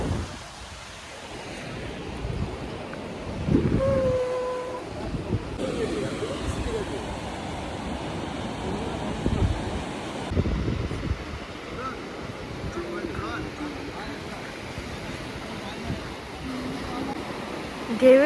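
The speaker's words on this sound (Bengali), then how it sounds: "ঢেউয়ের শব্দগুলোই যেন একটা মানে ফিল করার মতো" Sea waves wash and break steadily on the beach at Digha, with strong wind buffeting the microphone throughout and a few louder surges standing out.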